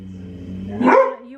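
A fast-running dog gives a single sharp, close bark that rises out of a low sustained whine or growl.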